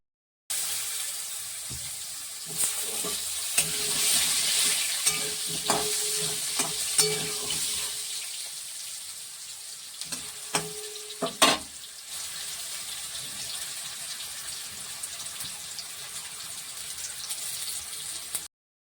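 Cumin seeds hit hot oil in a pan for an American rohu fish recipe, giving a bright continuous sizzle with scattered sharp crackles and a few clinks of a spoon stirring, no voices.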